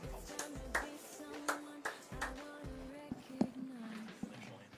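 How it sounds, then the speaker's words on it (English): Scattered hand claps from a crowd at a speedway meeting, applauding the volunteers in sparse, uneven bursts with a voice talking underneath. "Can we stand and give them a round of applause, please?"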